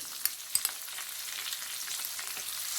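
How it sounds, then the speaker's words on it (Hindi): Ginger paste fries in a pan for an eggplant and potato masala, a faint, even sizzle with a few soft spoon taps, close up, with no one talking. "अदरक की पेस्ट डालेंगे"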